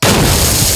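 A bomb explosion effect from a Tamil film scene, one loud, close, full-bodied boom that bursts at once and rumbles heavily through its short length.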